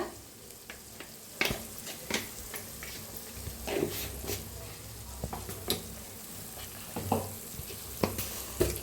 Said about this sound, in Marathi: आता मसाला छान असा भाजून घेऊया तेलात